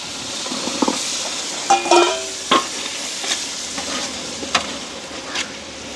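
Tomatoes, green beans and green chilies sautéing in a pan, with a steady soft sizzle broken by several sharp clatters of a spoon stirring against the pan.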